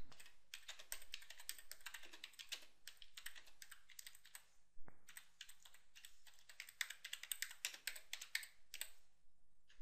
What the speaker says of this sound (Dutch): Je kunt nu direct gaan typen.